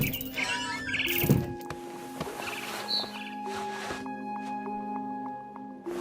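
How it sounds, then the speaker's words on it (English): Small chirps of a barn swallow outside a window in the video game What Remains of Edith Finch, brief tweets over a quiet ambient game soundscape with sustained tones and a few soft thuds. "Then I heard chirping outside my window. It was a barn swallow going back to her nest."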